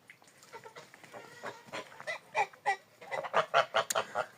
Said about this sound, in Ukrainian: Це тут молодняк остався. Молодняк і стара гуска.